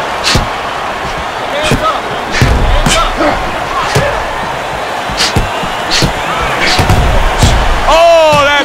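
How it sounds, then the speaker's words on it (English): Punches land in a boxing video game bout between George Foreman and Rocky Marciano, including a Foreman right hand. Sharp slapping thuds strike irregularly over a steady crowd murmur, and a brief voice-like warble rises near the end. "Superb right hand lands home by George Foreman"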